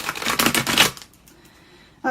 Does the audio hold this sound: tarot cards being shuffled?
yes